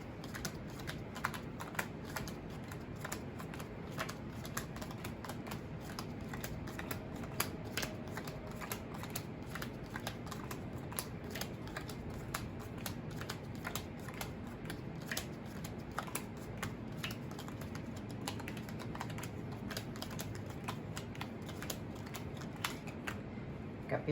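Playing cards are laid out one by one in a spread on a table, giving a steady run of soft, close snaps and slides with no talking.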